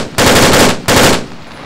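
Two loud, sustained bursts of machine gun fire from the video game Arma 3 ring out close, each lasting over half a second with a short gap between, and no voices are heard.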